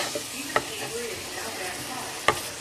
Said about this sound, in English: You move your mince to the one side of the pan and you squeeze them